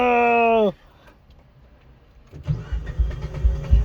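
A Mitsubishi Evo's engine cranks and catches after a short, faint pause, then rumbles loudly at close range with uneven idle surges, following a brief tonal electronic sound at the very start.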